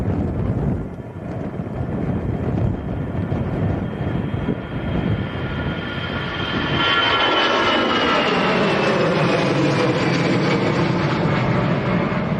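An easyJet airliner bound for Belfast at Manchester Airport, a loud jet engine roar that swells and rises in pitch as the aircraft passes, with some wind buffeting on the microphone.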